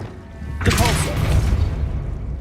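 A Depulso spell is cast in Hogwarts Legacy, producing one sudden loud blast with a bright whooshing burst that trails off into a rumbling tail of game ambience.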